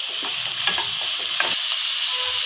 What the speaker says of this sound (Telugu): పెద్ద ఉల్లిపాయ సన్నగా తరిగి వేస్తున్నాను. కొన్ని అల్లం ముక్కలు. ఉల్లిపాయను కూడా బాగా వేపుకోవాలి.